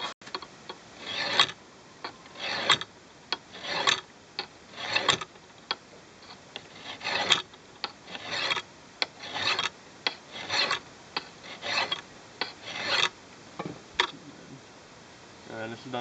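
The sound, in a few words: filing to sharpen an axe blade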